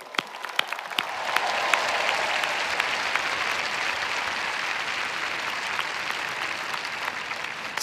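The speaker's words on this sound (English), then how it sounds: "let's give the dads in particular a round of applause." Commencement audience at Stanford applauding the dads on Father's Day, a dense sustained wash of clapping from a large crowd that swells in after a few scattered claps and holds steadily to the end.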